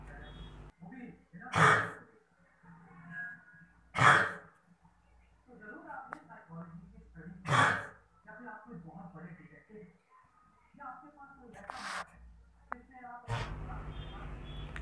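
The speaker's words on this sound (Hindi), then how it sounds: "कितना खांस रहा है ये इसकी कंडीशन काफ़ी ख़राब है" A dog with a bad cough coughs and hacks in repeated harsh bursts, four or five loud fits spaced a couple of seconds apart, with quieter wheezy breathing between them.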